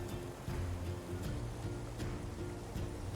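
A rushing river at a wilderness campsite gives a continuous broadband wash of flowing water, steady and moderately loud, with no voices over it.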